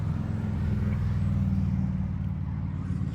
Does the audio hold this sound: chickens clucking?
no